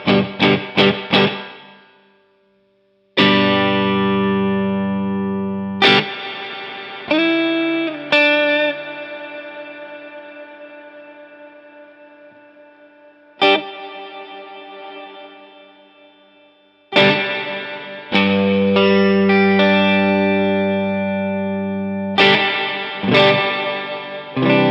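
NUX Atlantic delay and reverb pedal on its decay setting, with guitar chords and notes ringing out into long, swelling ambient tails that fade slowly between distinct strums, loud and alone.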